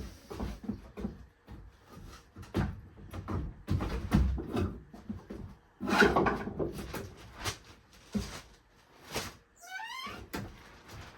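A repaired, squared-up door swung open and shut several times, giving a series of close wooden thunks and knocks with short rubbing movements and quiet gaps between them.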